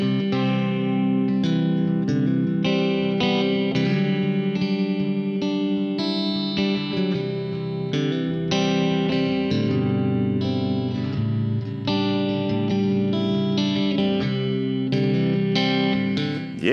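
A Moar 'Dolly' boutique electric guitar played through an AC30 amp preset, a continuous stretch of loud, full chords and ringing notes with some drive and chorus-like shimmer, close and alone with no talking.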